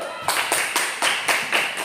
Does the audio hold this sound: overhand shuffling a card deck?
no